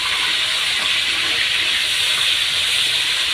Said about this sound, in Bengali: তো এখানে মাছটা ভেজে নিচ্ছি।